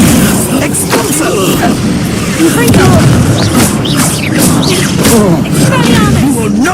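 Expulso explosion spells going off in combat in the video game Hogwarts Legacy, booming blasts and crashes repeated through a dense, loud battle mix with someone talking over it.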